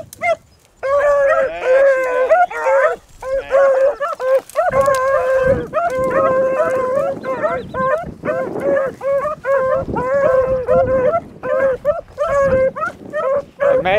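Beagles bay and howl on a hunting trail, several dogs giving loud, overlapping, rhythmic cries close by with barely a pause, while a voice is faintly heard underneath.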